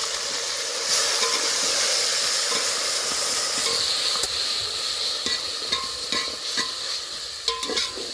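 Ginger, garlic and chili paste sizzling in hot oil in a home kitchen pan for chicken biryani, a steady bright frying hiss broken by scattered crackles and spoon stirs, close and continuous.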